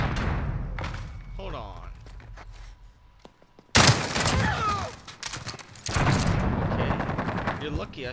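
Bursts of automatic gunfire in Modern Warfare, sharp rattling volleys that hit hard after a brief lull and keep going, with a voice talking between and over the shots.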